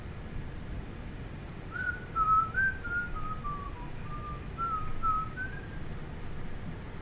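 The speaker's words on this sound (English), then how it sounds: "Sorry, I'm a whistler." A person whistles a short, wandering tune of sliding pitched notes in two phrases over a low, constant rumble from a train simulator game on the London Victoria to Brighton line.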